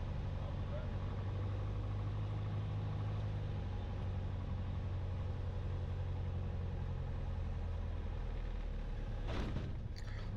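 Small airplane engine drones steadily and loudly throughout a first solo landing, with a brief burst of rumble and bump near the end as the wheels touch down.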